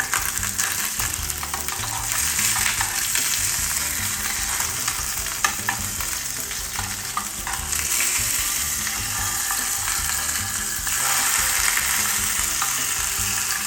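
Fish fries in a Revo graphene non-stick food container, giving a continuous dense crackling sizzle with occasional pops, close and steady throughout.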